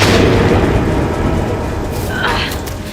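A film explosion of leaking dynamite set off by a gunshot: a dense, loud, sustained roar and rumble with crackling debris that stays heavy through the clip and fades slightly near the end.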